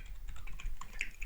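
Rapid typing of code on a computer keyboard, a dense run of close, crisp key clicks at an uneven quick rhythm, with no voices.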